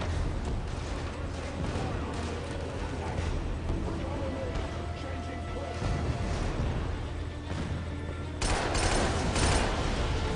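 Rapid bursts of light machine gun fire from Killzone 2 on Veteran difficulty, aboard the Cruiser, rattling steadily for about ten seconds over a dense mix of battle noise, with a louder, sharper stretch near the end.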